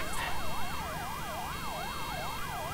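An ambulance siren in the video game Accident wails up and down in a steady, continuous cycle, loud and close, with no talk over it.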